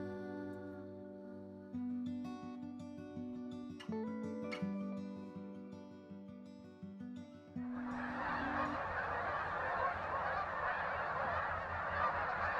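A flock of geese honks repeatedly in the latter half, loud and busy, after a stretch of tonal, music-like sound.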